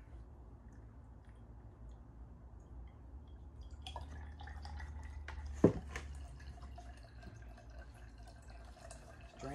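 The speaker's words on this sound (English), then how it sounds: "It's draining nicely now." Water drains from an HVAC unit's drain pan in faint trickles and scattered drips over a steady low hum, with one sharper splash near the middle.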